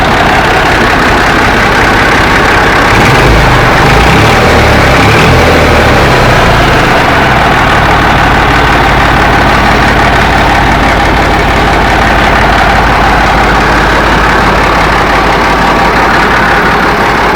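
A repaired 1982-model tractor engine catches and settles into a loud, rough diesel idle at a workshop, a heavy low chugging that stays steady and close throughout.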